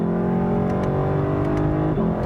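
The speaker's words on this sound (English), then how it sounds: "So for a car with almost 500 horsepower in rear drive, it really puts the power down" A 2018 Lexus LC500 with a naturally aspirated V8 of almost 500 horsepower and rear drive accelerates hard, its engine a loud steady drone from inside the cabin with no talk.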